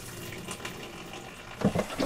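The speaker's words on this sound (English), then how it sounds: "I should turn the faucet on and push on the foot pedal" Water running from a sink faucet on a boat with a foot-pedal fresh water system, a soft steady flow that swells into brief splashing gurgles near the end.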